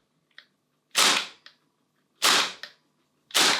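Krytac Kriss Vector Gen 2 gas blowback airsoft gun fired in short bursts, three loud sharp cracking volleys separated by pauses, with faint metallic clicks between them and no talk.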